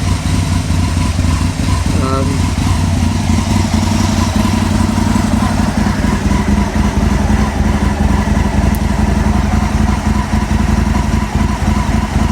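An Aprilia motorcycle engine runs steadily at a constant idle during ECU fuel tuning, loud and close with an even mechanical drone and light clatter throughout.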